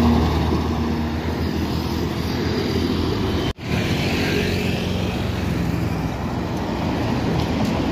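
A Berlian Jaya BJ05 bus rolls past on a main village road in Pulorejo, Purwodadi, Grobogan, a steady loud roar of engine and tire noise with a brief cut in the middle, amid ongoing traffic.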